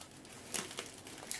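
A dull knife cuts open a shipping package, making soft crinkling and scraping of plastic and cardboard in quiet bursts, close and faint.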